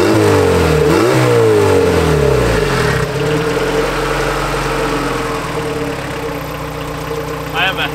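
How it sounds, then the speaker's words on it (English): Turbocharged LS engine with a VTEC conversion on a built car, revving hard twice with rising and falling pitch sweeps, then settling into a loud, steady idle close to the microphone. "I'll give you guys a couple of revs really quick."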